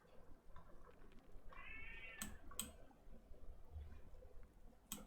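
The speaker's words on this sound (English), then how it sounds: "That's my cat telling me it's bedtime," A pet cat meows once, a short clear call near the middle, heard over a quiet room hum with a couple of faint clicks and no talking.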